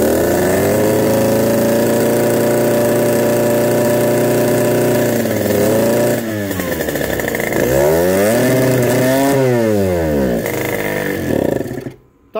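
A rebuilt motorcycle engine with new crankshaft, carburettor, cylinder and piston, running despite having no compression, loud and close. It idles steadily, then revs up and down in several rising and falling swells before cutting out abruptly.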